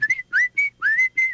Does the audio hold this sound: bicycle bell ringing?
no